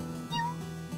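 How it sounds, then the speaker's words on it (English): A short cat meow from petting a cat in the video game Ikenfall, a single bright call standing out over a low, steady game soundtrack. "Oh, meow. Did you hear that?"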